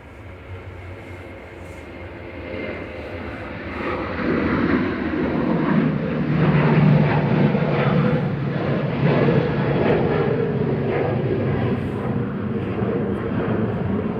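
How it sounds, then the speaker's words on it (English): A Ryanair Boeing 737-800 at Manchester Airport rumbles with its jet engines, swelling from a low hum to a broad loud roar midway and then holding steady, heard from a distance with no talk. "Ryanair flight 2141 operated by Buzzload off to Krakow SPRKU 737-800."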